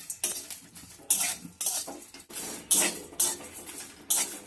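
Cardamom, cinnamon and green chillies are fried and stirred in a pan: a spoon scrapes and clinks against the metal in quick repeated strokes, each followed by a faint sizzle, close up.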